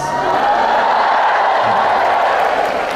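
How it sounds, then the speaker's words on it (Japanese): A concert crowd at a show roars with dense, steady applause and cheering that fills the whole stretch at close range, loud and unbroken. "ここで拍手です。拍手。拍手。"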